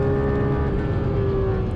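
Porsche 911 GT3 RS, 2022, accelerating hard around Silverstone Circuit: a loud, sustained engine roar with a steady rising tone, close by and continuous.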